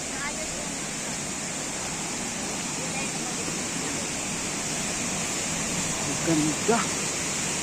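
Kuala Falls, a waterfall in Taytay, Laguna, pours as a steady broadband rush of falling water, with people speaking briefly over it near the end.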